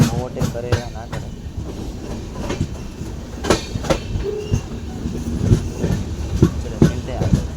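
The Bhavnagar–Bandra Superfast Express, an Indian train in sleeper class, rolls steadily along the rails with loud rhythmic clickety-clack wheel beats and rumble heard from on board, and a voice is briefly heard under the noise.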